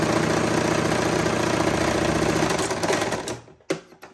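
A sewing machine runs steadily as it stitches a sleeve, a rapid continuous mechanical whirring and clatter that slows and stops near the end, followed by a brief click of handling.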